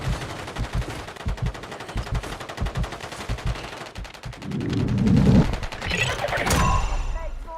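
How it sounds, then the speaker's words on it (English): Automatic weapon fire in the Warzone battle royale game, quick bursts of close shots followed by a louder crashing rush of combat noise, with voices speaking over parts of it. "I'm taking fire."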